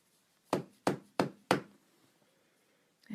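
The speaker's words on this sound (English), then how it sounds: "And she knocks." Four firm, evenly spaced knocks sound on a door, close and clear, then a pause before a fifth knock starts at the end.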